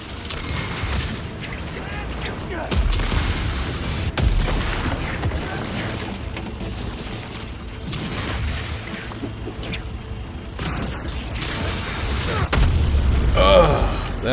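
In the Spider-Man 2 video game, a VTOL aircraft is destroyed amid repeated heavy booms and blasts, with deep thuds striking every few seconds over rumbling mechanical action and a voice talking over it.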